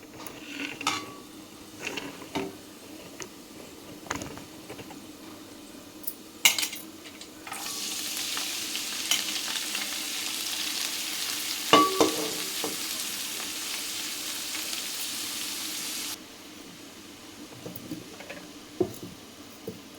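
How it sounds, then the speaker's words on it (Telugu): Amaranth leaves drop into a pan of onions and dried red chillies frying in oil, setting off a loud, bright sizzle that lasts several seconds, with scattered spatula scrapes and clinks before and after. "ఉల్లిపాయలు ఎండుమిర్చి ఎర్రగా అయిన తర్వాత ఇదిగోండి ముందుగానే కోసి పెట్టుకున్న తోటకూర వేస్తున్నా"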